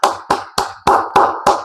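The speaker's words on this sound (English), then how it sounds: "Clap it up for him." Six sharp hand claps ring out close and alone at a steady, unhurried rhythm, each a crisp slap with a short tail.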